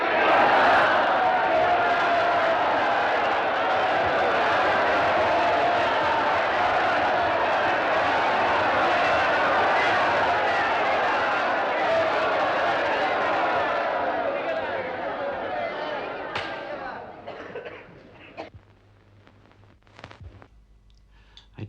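Crowd of film extras cheers loudly on a set for the arrival of Caligula, a dense sustained roar of shouting voices that holds steady before thinning out and fading away near the end.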